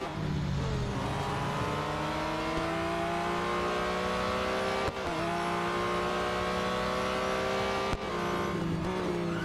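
A race car engine in the mobile racing game Real Racing 3 drones loudly and continuously, its pitch climbing and dropping with abrupt gear shifts around the middle and near the end, with no talk over it.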